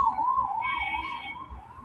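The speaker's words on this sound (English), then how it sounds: "some siren I'm hearing" Emergency siren wailing in the distance, picked up through someone's open microphone in an online meeting: a single wavering tone rising and falling steadily over faint background noise, with no talk over it.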